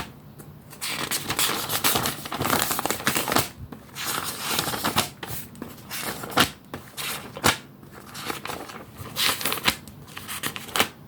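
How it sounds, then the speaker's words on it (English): Paper rustles and flips continuously for several seconds, a busy run of crisp page turns and crinkles at close range. "This is page turning."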